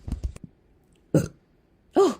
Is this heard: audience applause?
no